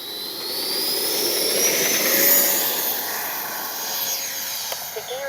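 A Freewing 90mm F4 RC jet with an electric ducted fan flies past, a loud, steady high-pitched whine and rush that swells and fades slightly as it passes.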